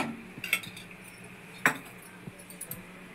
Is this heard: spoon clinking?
yes